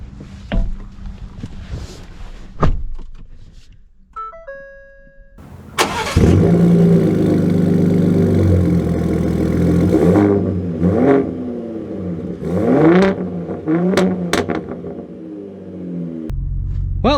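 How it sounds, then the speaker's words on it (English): A Ford Raptor with the 37 Performance Package starts up and pulls away, its engine surging loud and close with repeated revving swells over a steady rumble, after a few quieter thumps and clicks. "let's drive it and kind of cap things off."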